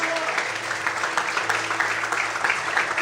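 Church congregation applauding during a sermon, steady mid-level clapping with a faint low hum or tone running underneath.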